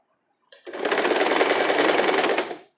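A sewing machine stitches steadily along the folded edge of a cami top, a loud continuous mechanical whir lasting about two seconds before stopping, with no talking.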